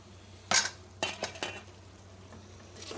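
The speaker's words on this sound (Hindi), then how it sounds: "अब मैं इसके अंदर बैंगन भी डाल रही हूँ।" Eggplant tumbles into a pan of mixed vegetables, giving a few sharp clattering knocks and scrapes of utensil on cookware over a soft background sizzle, with no talking.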